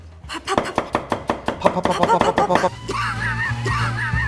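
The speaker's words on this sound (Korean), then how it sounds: "이렇게 칼질 좀 해봤나요?" Rapid, even knife strokes chopping green onion on a cutting board in a kitchen, about a dozen crisp near thuds in quick rhythm, then stopping as a low hum and faint background voices continue.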